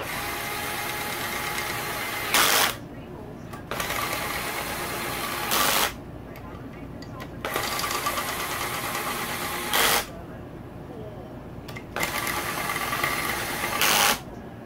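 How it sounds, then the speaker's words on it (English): A cordless driver lightly seats the cylinder head bolts on a Kawasaki KX dirt bike during a top end rebuild, giving several short, loud whirring bursts separated by pauses over steady background noise. "Use my cordless just to lightly seat them for now."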